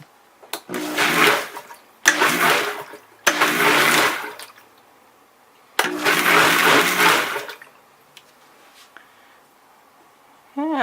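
A blender pulses shirataki rice with ground beef in four loud, whirring bursts of about one to two seconds each, separated by short pauses, close and with no talking over it.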